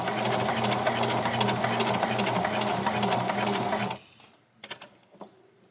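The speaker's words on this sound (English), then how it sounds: "go and sew really slowly" A sewing machine runs at a slow, steady pace while a patch is stitched on, a close continuous whirring hum that stops near the end, followed by a few faint clicks and handling sounds.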